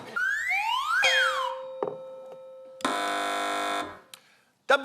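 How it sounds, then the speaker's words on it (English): Quiz show contestant buzzers on a TV panel game, a series of distinct electronic tones: rising swooping whistles, a short beep, a long harsh buzz lasting about a second, then a final sharp blip. "Fingers on buzzers, teams."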